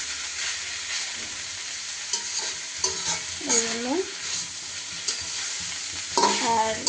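Fried potatoes being stirred together with boiled spinach in a pan, a steady sizzle under repeated scraping strokes of a spatula, with several louder clattering stirs near the end; no talking.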